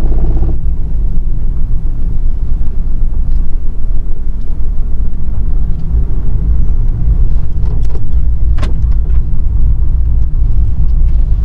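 A car pulls away in first gear during a beginner driving lesson, its engine rumbling loud and steady throughout from close inside the cabin, with no talk.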